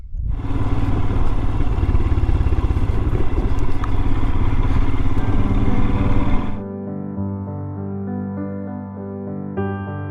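Royal Enfield Himalayan motorcycle ridden off-road on loose gravel forestry tracks in Glentrool, Scotland, its engine a loud, steady rumble with clatter for about six seconds before cutting abruptly to quieter tonal sound.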